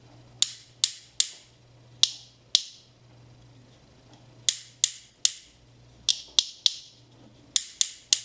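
Sharp plastic clicks from a repaired Pinkfong toy excavator's arm mechanism ratchet in short irregular bursts, crisp and close, with brief quiet gaps between the clusters.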